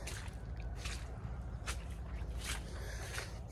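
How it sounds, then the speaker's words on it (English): Footsteps squelching through a wet bog in the woods, several soft wet squishy steps spaced at an uneven walking pace over low rumbling background noise, close by and fairly faint. "Walking through the bog."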